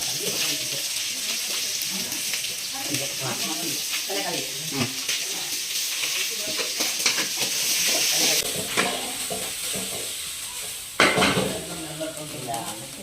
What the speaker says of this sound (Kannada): ರೋಸ್ಟ್ ಮಾಡ್ಕೊಂತೀವಿ.